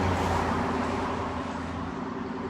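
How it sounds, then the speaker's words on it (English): A car going by on a road, a fairly close steady engine and tyre rumble that slowly fades over a couple of seconds, with no talk. "Nice car coming along."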